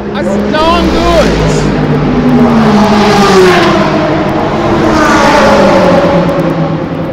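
BMW race car at Eastern Creek Raceway, its engine note rising and falling as it passes with a steady roar, heard under continuous commentary from a voice.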